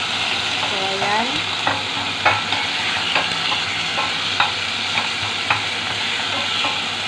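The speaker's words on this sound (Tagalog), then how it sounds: "Siyempre, lutuin natin talaga ng mabuti yung ating sibuyas at kamatis." Onion and tomato frying in a very hot pot, a constant sizzle with a run of rhythmic scraping clicks as the mix is stirred, near and without speech.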